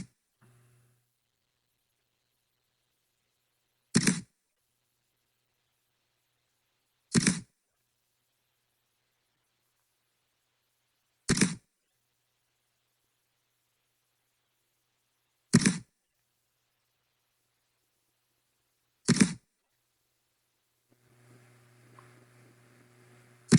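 A camera shutter sound effect in a Canva product video, five short crisp clicks spaced a few seconds apart, each sharp and close, with a faint low hum at the end.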